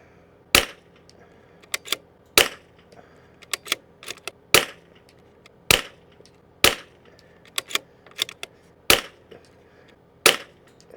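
Supersonic .22LR rifle shots fired one at a time on a range, sharp loud cracks at irregular intervals with fainter clicks and echoes between them, no talk.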